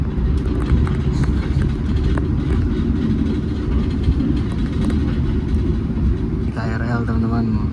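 A KRL commuter train rumbles past near Cakung station, heading toward Cikarang or Bekasi with what looks like a twelve-car set: a loud, steady, close roar of wheels and carriages throughout, with a brief higher tonal squeal near the end.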